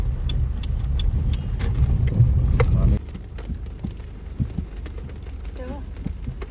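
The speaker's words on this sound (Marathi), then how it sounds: "खूप पाऊस पडतोय" Heavy rain drums on a moving car during a ride to Vashi, a dense patter over low road rumble that drops quieter halfway through, with scattered drips and faint voices inside.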